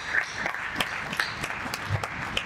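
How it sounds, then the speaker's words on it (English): Scattered, sparse clapping from a small audience at a closing session of an African brokers conference, individual claps audible in an uneven rhythm at moderate distance. "A round of applause for the brokers."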